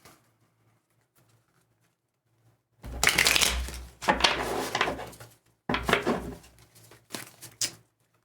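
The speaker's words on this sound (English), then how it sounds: "Let's do 2 more shuffles for Scorpio" Tarot cards being shuffled by hand in close bursts of dry riffling and patter, with two main shuffles separated by a brief pause and a few short slaps at the end.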